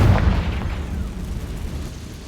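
A Confringo fire spell goes off as a deep, booming explosion in Hogwarts Legacy, loud at the start and then trailing off into a low rumbling decay.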